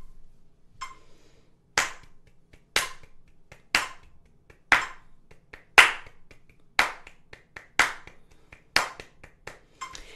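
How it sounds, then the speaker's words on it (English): Steady hand clapping in a rhythm exercise, sharp claps repeating about once per second and each followed by softer quick taps filling the beat, close and clear with no voices. "Exercise 5 will be clapping 4 notes per beat."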